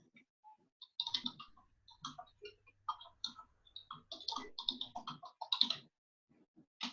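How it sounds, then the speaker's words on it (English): Quiet keyboard typing, irregular clusters of light key clicks with short pauses between bursts, close and soft. "And so you're typing your message."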